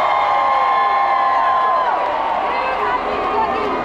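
A stadium crowd at a concert roars and cheers in a loud, dense, sustained wash of voices with whoops, filling the whole clip without pause.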